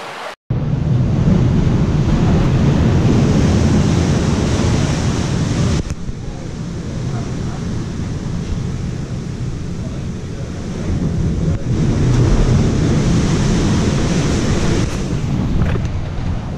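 Rough ocean waves pound a beach in strong wind, a loud continuous roar of surf and gusting microphone buffeting that swells and eases over the whole stretch.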